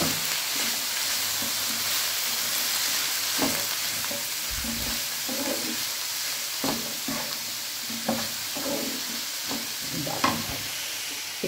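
Steady soft sizzling of potatoes and fenugreek frying in a pan, with occasional light stirring and scraping strokes over a constant hiss, no voices.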